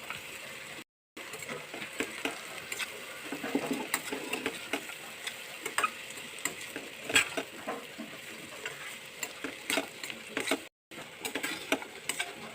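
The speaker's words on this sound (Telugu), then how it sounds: "శనగపప్పు మిశ్రమాన్ని అందులో వేసుకొని కలుపుకుంటాం" A spoon stirs a chana dal mixture into cooking vegetables in a pan, with irregular scraping and clinking ticks that come in bursts, near and moderately loud, interrupted by two brief silences.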